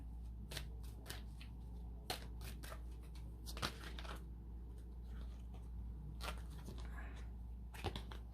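Tarot cards shuffled by hand in a steady run of soft riffling and flicking, with sharper snaps where cards fall out, close and fairly quiet against a low steady hum.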